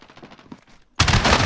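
Gunfire with special ammunition in the Call of Duty Modern Warfare game: a few quick muffled shots give way to a sudden loud, sustained burst of close fire.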